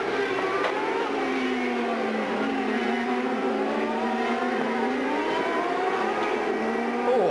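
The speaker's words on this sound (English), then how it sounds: "Here comes Alex Zanardi. There is Gilles de Ferran behind him. Then the lapped car of Roberto Moreno" CART race cars at speed on the Long Beach street circuit, loud high-pitched engines screaming past one after another with rising and falling pitch, in a sustained continuous roar.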